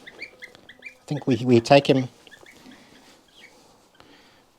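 A goose calls on a farm in Portugal with a short burst of loud honking, up close and alone, then fades into quiet rustling and faint background sounds.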